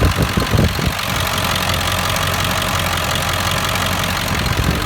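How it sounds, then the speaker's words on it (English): A 2003 Ford F450's 7.3 liter diesel engine with 200,000 miles idles with the oil cap removed, a loud close steady rumble with a low clattering knock and a brief uneven burst at the start. "I'm going to take the oil cap off to show you blow-by."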